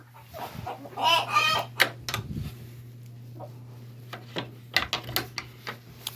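Backyard hens in their coop cluck in short, scattered bursts, several birds nearby with a few louder squawks over a low, steady hum.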